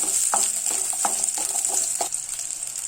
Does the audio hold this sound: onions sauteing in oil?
yes